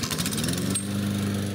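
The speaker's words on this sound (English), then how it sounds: "this year he's mowing his own lawn" A lawn mower cuts a residential lawn with a steady, close buzzing engine drone and faint clattering.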